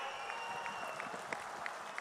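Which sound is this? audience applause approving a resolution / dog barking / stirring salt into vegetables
audience applause approving a resolution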